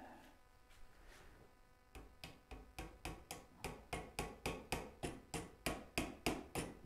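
Tack hammer driving nails into a wooden picture frame, a steady run of sharp, close hammer strikes, about a dozen evenly paced blows, after a few quieter taps and rustling at the start.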